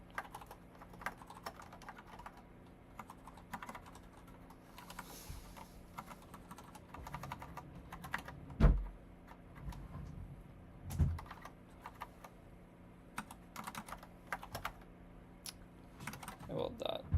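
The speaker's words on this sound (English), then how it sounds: "can I type? My keyboard?" Someone types on a computer keyboard in fairly quiet, continuous clatter, with a few louder knocks and thumps scattered through.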